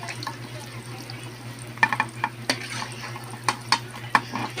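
Fried chicken wings are lifted out of a pan with a steady frying sizzle underneath, marked by several sharp clinks and scrapes of utensil against metal spread across the moment.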